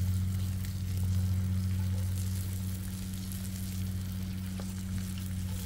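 Pecan crusted walleye fillets frying on a Blackstone griddle, a steady close sizzle with a low constant hum underneath and no voices.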